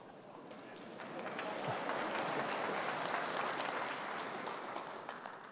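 Steady applause from a crowd, a dense patter of clapping that swells and then holds at moderate volume.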